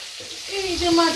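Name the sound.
fish head frying in oil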